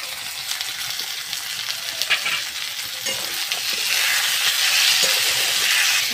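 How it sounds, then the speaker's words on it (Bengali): Green peas frying with ginger, garlic and spices in a hot pan, giving a steady broad sizzle with stirring scrapes, growing louder and fuller toward the end, close and alone. "এবারে আমি কড়াইশুঁটিগুলো দিয়ে দিচ্ছি।"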